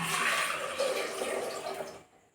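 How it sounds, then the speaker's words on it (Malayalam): Water pours in a steady rushing stream into a pressure cooker for about two seconds, then cuts off abruptly into quiet. "ഈ പാകത്തിന് ഇതിലേക്ക് വെള്ളം ഒഴിച്ച് കൊടുക്കാം കേട്ടോ."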